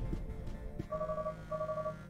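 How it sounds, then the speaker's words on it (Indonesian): A telephone rings twice in the samurai action video game Katana Zero, two steady electronic ring bursts sounding over the game's background music. "Wah, ada telepon."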